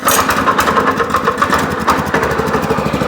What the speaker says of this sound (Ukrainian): Запускаємо мотоблочок.